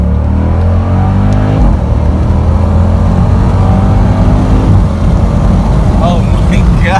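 A car in track mode accelerates hard, its engine droning loud and close throughout with rising revs and a brief dip around a shift. A voice reacts over the roar.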